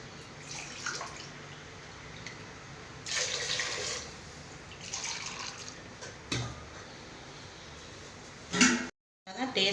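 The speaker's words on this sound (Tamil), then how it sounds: "இப்போ தண்ணி சேர்த்துக்கலாம்." Water poured into a pot of rice in a home kitchen for cooking lunch, splashing and running in several bursts of a few seconds each, with a short loud gush near the end.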